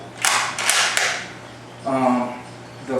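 The bolt of a Yugo Mauser M24/47 rifle is worked, giving three quick metallic clacks close together, then a slower creaking slide a moment later.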